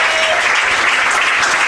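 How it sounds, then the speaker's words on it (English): A baseball crowd at an American Legion state tournament game gives a loud, sustained round of applause as a young pitcher walks off the mound, dense clapping filling the whole moment. "The 14-year-old is going to walk off the mound to a thunderous round of applause from the Groton faithful"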